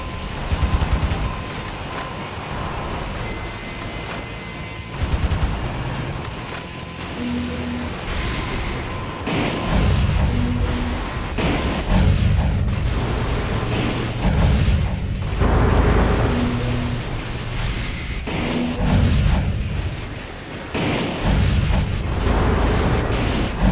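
Explosions destroy rocket launcher installations in the video game Metal Wolf Chaos XD, with repeated heavy booms and blasts over a dense rumbling battle din of gunfire for the whole stretch, loud and continuous.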